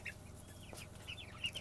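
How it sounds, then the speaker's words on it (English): A young rooster among three- and six-week-old chickens gives soft, short clucks and chirps, faint and intermittent against a quiet farm background with no talking. "that is a rooster that's doing that"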